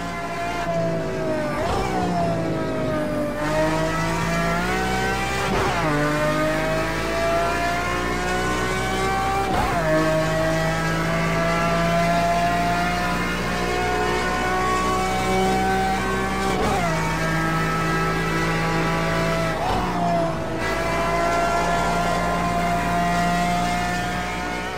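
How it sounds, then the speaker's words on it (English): A V12 race car engine in Project Cars 2 drones loudly and continuously, its pitch climbing through each gear and dropping sharply at every shift, sustained without talk. "There is no better sounding V12."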